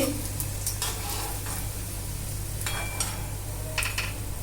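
Pointed gourd chops deep-frying in hot oil, a steady crackling sizzle up close punctuated by several light metallic scrapes and clinks of a slotted spoon.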